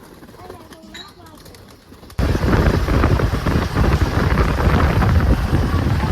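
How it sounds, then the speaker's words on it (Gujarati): Pigeons released outdoors at the Umiyadham temple in Sidsar give soft cooing and calls at first, then a sudden loud, rushing burst of wing flapping and wind that holds steady to the end. "કબૂતર નીકળે બારે."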